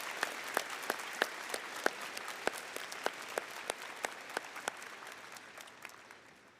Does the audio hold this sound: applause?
yes